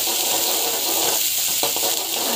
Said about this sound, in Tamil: ஆனியன் நல்லா போட்டுக்கோங்க. போட்டுட்டு நல்லா வந்து ஃப்ரை ஆகணும்.